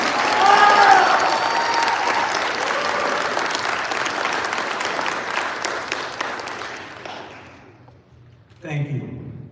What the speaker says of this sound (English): get one more round of applause for all three of our chargers